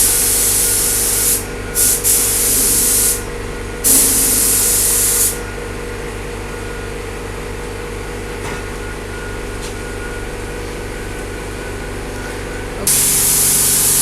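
An air compressor runs steadily through a spray-painting session in a low-cost home-built paint room, a constant droning hum with bursts of hissing spray gun air coming and going on top.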